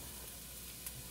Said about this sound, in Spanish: Voy a agregar la cebolla picada y de una buena vez voy a agregar las espinacas